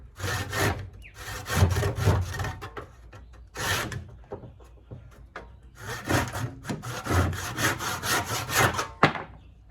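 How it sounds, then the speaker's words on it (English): Handmade knife being cut and sanded, giving close, loud rasping strokes in irregular bursts with short pauses between them. "go ahead and cut that, finish off sanding this nice and back nice and smooth"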